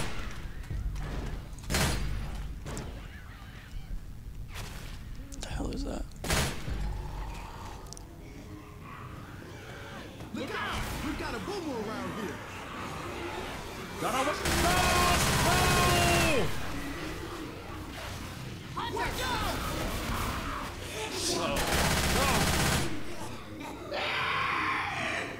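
Gunfire in the zombie shooter Left 4 Dead 2: sharp shots and rapid bursts recur across a chaotic stretch of game noise, with thuds and screams and players talking now and then.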